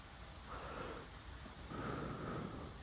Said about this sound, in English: It's like raining in here, too.